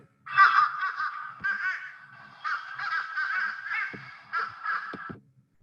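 A person vocally imitates a fish crow's call, giving short nasal caw-like bursts in a few separated groups, close and clear against a quiet background.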